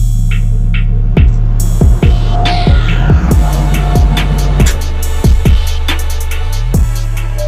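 A spinning driveshaft for a stand-up jet ski, built for a very fast racing craft, gives a loud steady throbbing hum, punctuated by sharp periodic clicks and knocks as it turns.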